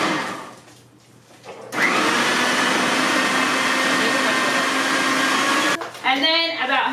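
Blender whirring loudly and steadily for about four seconds while mixing a homemade essential oil playdough with frankincense and lavender oils, starting abruptly after a quiet moment and cutting off, followed by brief talk.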